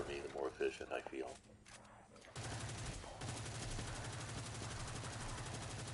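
Rapid automatic weapon fire in a video game, a dense continuous stream of shots starting about a third of the way in and running steadily to the end, after a stretch of quieter voice-like sound.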